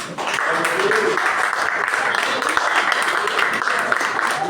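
A church congregation applauds the Lord in a sustained, dense wash of clapping that holds steady throughout, with no clear pauses.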